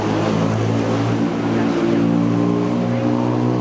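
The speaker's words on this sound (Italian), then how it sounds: "Se pensate che la vostra città soffra di traffico tentacolare, venite a Bangkok e vi accorgerete che non siete nessuno." Heavy street traffic in Bangkok, a dense steady drone of idling and revving engines close by, with a voice talking over it.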